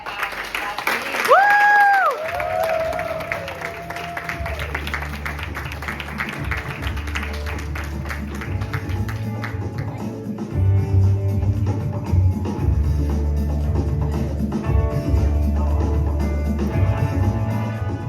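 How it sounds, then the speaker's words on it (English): Conference audience applauding speakers at a talk: after a brief tone, a sustained wash of many hands clapping fills the room, steady and moderately loud, with a voice speaking over part of it. "a round of applause for Claire and Nasreen"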